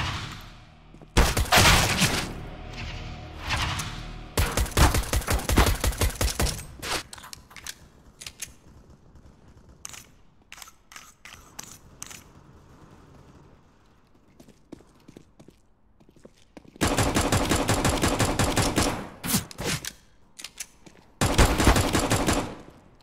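Gunfire in Counter-Strike: Global Offensive, loud automatic bursts in several separate strings with sparse single shots and clicks in the quieter gaps between them.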